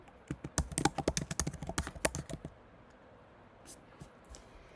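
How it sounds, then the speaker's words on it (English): Brisk keyboard typing, a quick run of close, crisp key clicks for about two and a half seconds, then a couple of faint taps in a quiet room. "Let me see if I can type"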